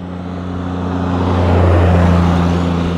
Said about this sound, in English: It's not, it's a six-wheel John Deere Gator with Merlin at the wheel.